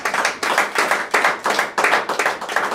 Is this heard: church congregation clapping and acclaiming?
yes